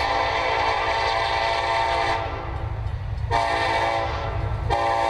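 Westbound Union Pacific 8739 approaches with loud, close blasts of its horn, two long sustained tones broken by a short gap, over the rumble of the moving train.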